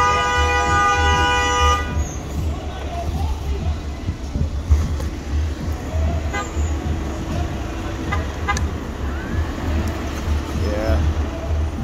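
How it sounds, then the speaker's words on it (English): Car horns toot repeatedly from traffic passing a bus, with steady road noise and vehicles rushing by throughout. "All these cars passing by honking because the bus, right?"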